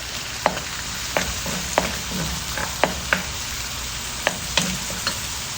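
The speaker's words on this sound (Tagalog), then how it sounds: "Lagay na natin yung 4 cloves of garlic." Four garlic cloves fry in hot oil for a chicken wings and liver dish, a steady close sizzle broken by about ten sharp taps and scrapes as a utensil stirs the pan.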